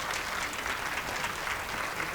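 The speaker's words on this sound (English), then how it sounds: "give these folks a round of applause" A hospital staff gathering gives a brief round of applause for cath lab and inpatient unit workers, a dense, even wash of clapping from a room full of people.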